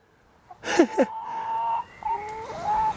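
New chickens, just bought and put in together, give a few short clucks and a drawn-out quavering call, close and clear against quiet surroundings with no talk.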